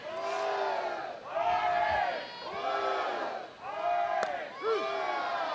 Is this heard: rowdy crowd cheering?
yes